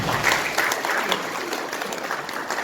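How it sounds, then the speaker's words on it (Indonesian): A church congregation at an Easter service in Jakarta claps together in a short burst of steady applause, with some voices under it. "Beri tepuk tangan yang kedua."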